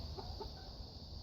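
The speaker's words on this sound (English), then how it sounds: "there's the barred rock bantams" Barred Rock bantam chickens cluck a few soft, brief times over a steady hiss of farmyard background noise.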